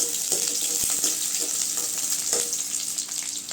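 Onions and garlic sautéing in a pan for a bottle gourd thokku, a steady, fairly loud sizzle with a few soft spoon scrapes and taps as the pieces are stirred.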